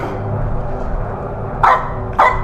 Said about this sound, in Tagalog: Ayan, ayan yung aso, ayan yung aso.